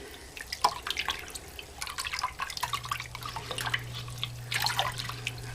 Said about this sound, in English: I got a ton of jars to clean,